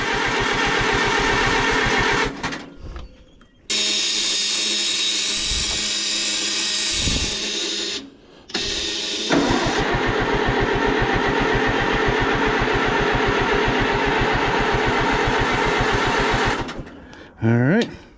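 An Oliver 550 tractor engine cranks and catches in loud, close bursts. It chugs and runs roughly for several seconds, cuts out briefly, then fires again and runs steadily before stopping.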